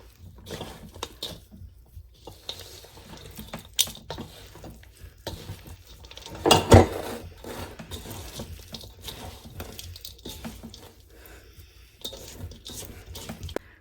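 Homemade chicken block ingredients being mixed in a bowl: soft, irregular scraping and clattering stirs with a louder clunk midway, close and fairly quiet.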